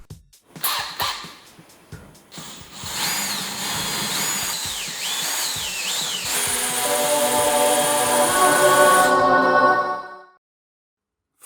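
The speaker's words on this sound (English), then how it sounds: "Three snap drill bits later, we have two nice holes." A power drill bores holes into a lathe LED light panel, starting with short bursts, then a long sustained whining run with shifting pitch before cutting off abruptly into silence; loud and close.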